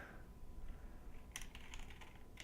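Rapid, soft clatter of keys on a computer keyboard as a chat message is typed during a Magic: The Gathering match against UW Control, quiet and close with no talking, a denser burst of keystrokes in the second half.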